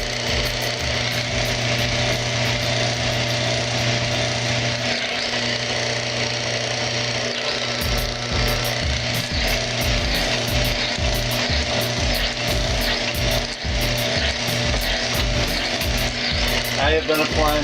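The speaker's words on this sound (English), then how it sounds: "You can literally watch the machine go up and down as I apply pressure on it." Lubricity test machine running Mobil SHC 634 synthetic circulating and gear oil as pressure is applied, giving a loud continuous grinding hum that turns into rapid rattling, knocking pulses partway through.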